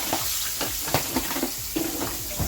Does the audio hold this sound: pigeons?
no